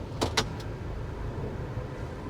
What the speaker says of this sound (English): It's got a kind of a rough idle.